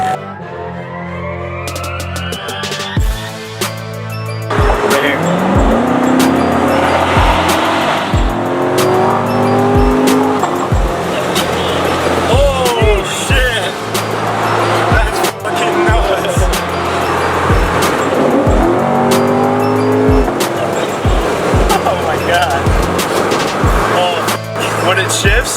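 A heavily modified twin-turbo C7 Corvette producing 1500 wheel horsepower drives hard with its engine roaring loud and close, broken by sharp pops and bangs at each gear shift, and tires squeal at times while a voice talks now and then over the noise.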